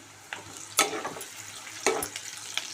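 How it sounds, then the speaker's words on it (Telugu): Sliced onions and green chillies frying in a pan, a soft continuous sizzle broken by a few louder crackles and stirring scrapes, close by with no talking. "చూడండి, వేగుతుంది."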